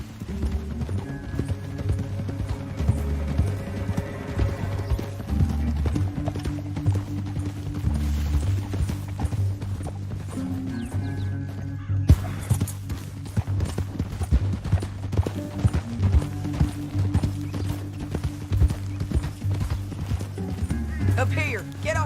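Horse hooves clip-clop steadily in Red Dead Redemption II, a continuous run of hoofbeats over low music with an occasional whinny, while characters talk over it.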